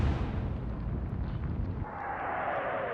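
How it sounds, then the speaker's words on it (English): Warship turret explosion in the naval game Atlantic Fleet, a loud, sustained rumbling blast that fills the clip, with a rising hiss and roar swelling in its second half. "One of the turrets has exploded."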